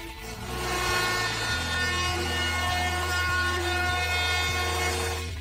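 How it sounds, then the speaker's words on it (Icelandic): A router rounds the edges of glued wooden parts for a sturdy ladder, a steady loud motor whine with a rasping cut, interrupted by faint regular bumps, close and without talk. "Eftir að límið hafði þornað, rúnaði ég alla hlutana með fræsara."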